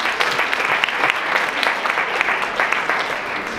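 Wedding guests at an Indian wedding in South Africa break into sustained, fairly loud applause, a dense wash of clapping filling the room with little else heard.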